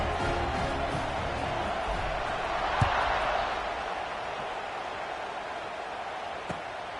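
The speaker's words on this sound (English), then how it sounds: "this crowd is buzzing after that last score." A stadium crowd in an NCAA college football video game buzzes in a dense, steady roar throughout, with a couple of brief sharp knocks standing out.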